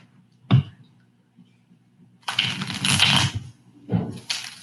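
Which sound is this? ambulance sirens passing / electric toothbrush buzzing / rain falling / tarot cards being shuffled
tarot cards being shuffled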